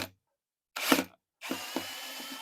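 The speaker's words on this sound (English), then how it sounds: "I got a Torx tip on there on the drill right now" A drill with a Torx tip backs out the mounting screws on an Echo PB-755ST backpack blower's pull-start mechanism, giving two short whirring bursts close by with a gap between.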